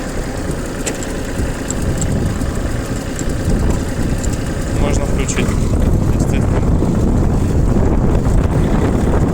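The low, steady rumble of a used Japanese tractor engine runs as the tractor pulls away, continuous under wind buffeting on the microphone, while someone talks over it.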